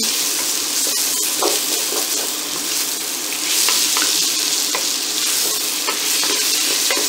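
Onions softening in a hot pan for chicken tajine with preserved lemon, giving a loud, close, constant sizzle and hiss with occasional light stirring clicks, no voices.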